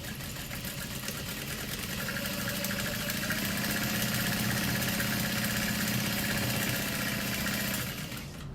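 A sewing machine stitches thin fabric for a key fob, its motor holding a steady, close whirring drone for about eight seconds before easing off at the end, with nobody speaking.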